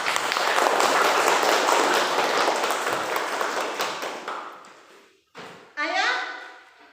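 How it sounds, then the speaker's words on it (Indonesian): Applause from a classroom audience of students after a group presentation, a steady broadband clatter of clapping that fades out over about five seconds, followed by brief speech. "Tepuk tangan."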